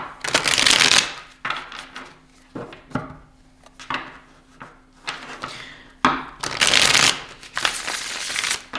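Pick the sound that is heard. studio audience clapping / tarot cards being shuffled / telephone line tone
tarot cards being shuffled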